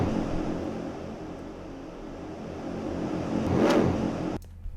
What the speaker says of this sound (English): If we click that, we actually get a reverse of that clip.